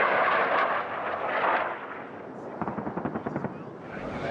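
Loud booming artillery fire in Afghanistan, Kunar and Nuristan area, rumbles at the start, followed by a rapid series of sharp distant reports. A voice speaks briefly over it.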